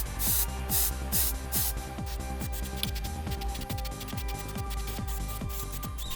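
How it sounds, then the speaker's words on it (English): Acrylic wood-tone base paint, thinned about 70-30, sprayed from an airbrush onto a Vietnam diorama model, giving a steady close hiss with several louder bursts at the start over a constant low hum. "And just sprayed kind of in the centre of panels to create a highlight."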